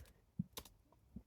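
A few soft, quick keystrokes tap on a computer keyboard while a search term goes into a search box, faint and close in an otherwise quiet room.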